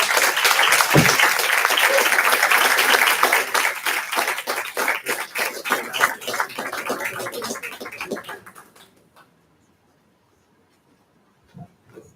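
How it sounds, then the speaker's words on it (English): Applause and clapping from the audience at a general assembly honouring Angelo, a dense, steady burst of many hands that thins out and fades to silence after about nine seconds, with a couple of faint thumps afterward. "A big hug and a big applause to Angelo."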